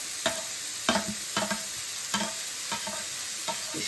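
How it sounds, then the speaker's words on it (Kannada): Mushroom, carrot, beans and peas fry in a pan for a vegetable ragi soup, with a spatula scraping and tossing them in a steady run of sharp strokes over a soft sizzle, close and clear. "ಇಷ್ಟು ಹಾಕ್ಕೊಂಡು ಚೆನ್ನಾಗಿ ಫ್ರೈ ಮಾಡ್ಕೊಂಡಿದ್ದೀನಿ"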